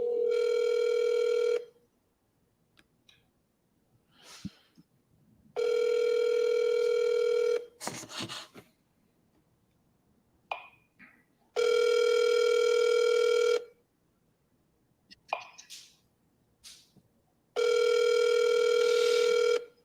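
Ringback tone of an outgoing telephone call, four steady electronic rings about two seconds each separated by longer silences, with faint clicks and rustles in the gaps.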